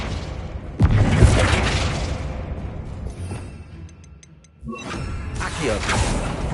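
A Flipendo spell cast in the video game Hogwarts Legacy: a sharp boom at the start gives way to a rumbling, crackling burst of magic, a brief lull, then a second swell of whooshing energy with small tinkling pops.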